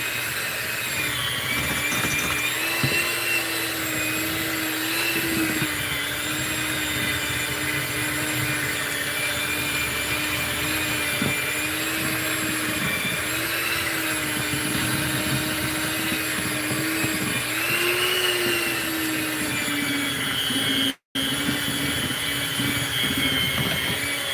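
An electric hand mixer whips cream for a strawberry dessert, giving a loud, steady motor whine that wavers slightly in pitch and runs almost nonstop, with one brief cut near the end and no talking.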